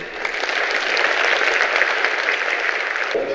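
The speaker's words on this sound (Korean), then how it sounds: "저희가 박수로 마무리하도록 하겠습니다" Dense, steady applause from a conference audience closing the opening ceremony of an academic water grid society meeting, loud and sustained throughout before cutting off abruptly near the end.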